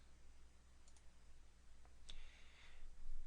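A few faint, crisp computer mouse clicks sound in a quiet room, a quick pair followed by a single click a second later, over steady low hum.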